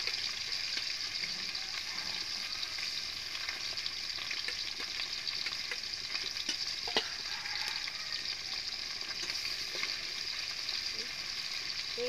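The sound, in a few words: bata fish frying in hot oil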